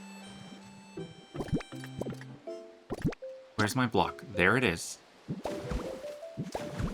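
Water in the Pokopia video game makes a series of plopping, dripping and splashing sounds under a person talking, with bursts of busier liquid noise in the middle.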